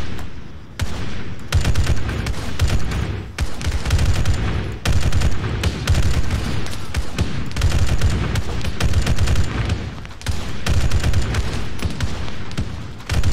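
Sustained enemy gunfire in a Halo multiplayer firefight, loud dense automatic bursts and shots crackling almost continuously with brief gaps, close and overwhelming throughout.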